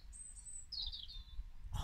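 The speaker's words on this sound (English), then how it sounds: "You can hear the wee bird still singing." A small bird sings outdoors near a flowering cherry tree, thin high chirps and a brief trill heard faintly at a distance over quiet background hiss.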